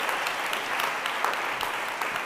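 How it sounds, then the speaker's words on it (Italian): Steady, dense audience applause fills the whole stretch at a fairly loud level, an even wash of clapping with no talk over it. "quando fai una battuta su Salvini applaudono tutti"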